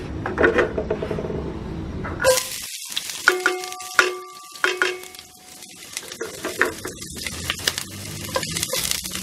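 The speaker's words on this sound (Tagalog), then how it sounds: "Then, lalagay lang natin yung bawang sibuyas." Garlic and onion sizzle and crackle in hot oil in a pan, loud and close, with a spatula stirring and scraping against the metal in irregular bursts.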